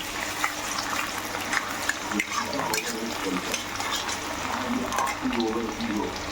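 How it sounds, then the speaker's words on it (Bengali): Potatoes fry in a pan with a steady, dense sizzle that stays fairly even throughout, close and moderately loud, with faint scraping or clatter now and then. "এবার আলুটা ছেড়ে আলুটা একটু ভাজা ভাজা ভালো করে করে নেবো"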